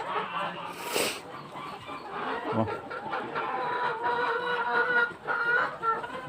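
Chickens cluck steadily at close range as the flock is let out in the early morning, a busy flock with overlapping calls and a short noisy burst early on.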